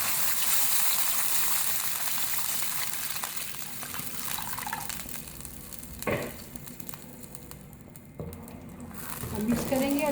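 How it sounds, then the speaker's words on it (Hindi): About two glasses of water poured into a hot pot for plain tempered rice with chillies, a sizzling, pattering gush that trails off, with brief clanks of the pot and a voice talking partway through. "अब हम पानी ऐड कर देंगे,"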